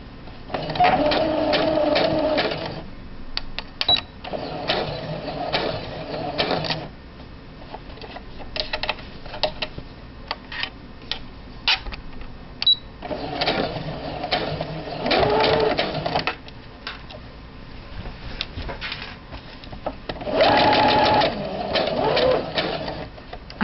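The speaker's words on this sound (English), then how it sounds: "we're going to stitch a 3/8 inch seam allowance" A sewing machine stitches a French seam with a 3/8 inch seam allowance, running in three loud, close bursts of rapid mechanical whirring separated by short pauses.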